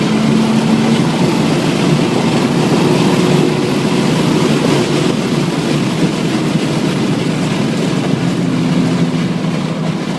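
A Subaru BRZ at full throttle on the Infineon race track gives a steady, loud engine drone from inside the car, with a continuous rumble and road roar that holds evenly throughout.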